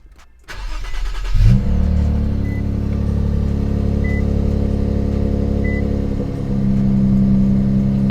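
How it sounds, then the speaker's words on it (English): An Infiniti Q50/Q60 fitted with a JB4 tune cranks and fires up, then settles into a steady, close idle with a low rumble, rising slightly near the end. "Let me turn the car on."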